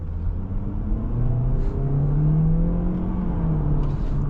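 A 2019 Lexus UX 200 with a CVT accelerates, its engine producing a steady, droning hum and whir that rises gradually in pitch from inside the cabin, with no voices.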